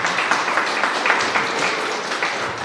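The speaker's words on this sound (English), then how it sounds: "give the staff a round of applause" Steady, dense applause from an audience thanking staff at a gathering of elected officials on COVID-19's impact in greater Flushing. It sounds like a moderate crowd clapping continuously, close and evenly textured, with no voices over it.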